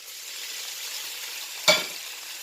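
Tomatoes frying in a pan for pinakbet, a steady close sizzle throughout broken by one sharp scrape or clatter of stirring near the end, with no talk.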